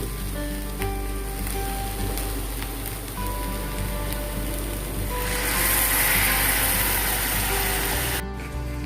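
Steady sizzling and crackling of food frying in a hot pan for kaju curry, close up, growing louder and hissier as wet tomato puree hits the oil.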